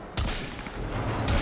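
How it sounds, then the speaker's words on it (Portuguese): Gunfire from a weapon in the video game Warframe: two sharp, loud blasts, one near the start and another near the end, with a booming tail between them. "Deixa eu dar os tiros com essa arma aqui."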